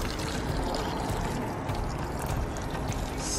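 Water poured from a jug onto the dry soil of a potted plant makes a steady, close, loud gushing pour that runs without a break for several seconds.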